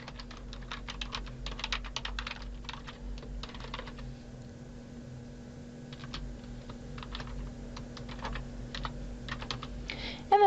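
Quiet typing on a computer keyboard while entering a comment line in a SAS program file: clusters of quick keystrokes separated by pauses over a low steady hum.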